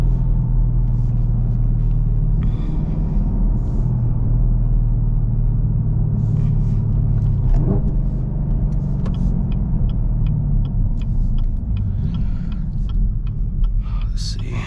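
Supercharged Chevrolet Camaro ZL1 with a 6-speed, heard from inside while driving: a steady, loud engine drone and road rumble run throughout, with brief bursts of louder noise near the middle and later.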